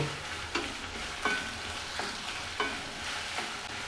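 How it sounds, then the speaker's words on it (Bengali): Sliced onions frying in oil until light golden for chicken handi: a soft, continuous sizzle broken by periodic scraping stirs of a spatula, roughly every second or so, with no talking. "হালকা গোল্ডেন করে কিন্তু আমি পেঁয়াজটাকে ভাজবো"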